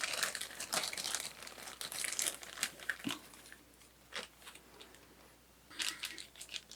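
Small plastic bags holding separated drone frame parts crinkle and rustle close up in irregular bursts, loud then quieter, with no voices.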